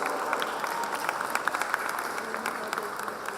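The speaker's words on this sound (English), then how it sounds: "big round of applause to our moderators too" Audience applause at a school quiz and talk event in Muscat, a continuous patter of many hands clapping at moderate distance, even and sustained throughout.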